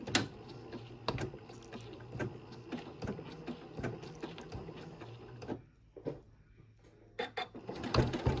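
Sewing machine putting a lock-in stitch into fabric binding: short bursts of needle clatter with sharp mechanical clicks, pausing briefly before starting up again, close and fairly quiet.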